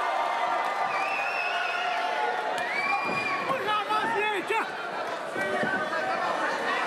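A crowd at a St-Ambroise 18 indoor independent wrestling event cheers and shouts steadily, with children's yells and excited chatter rising and falling through a loud, continuous din.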